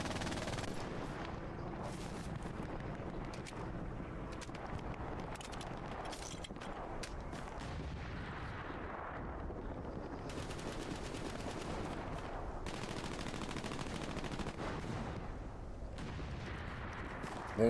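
Sustained machine gun fire in a multiplayer shooter match, dense rapid bursts running almost continuously at steady loudness with overlapping distant and nearer gunshots.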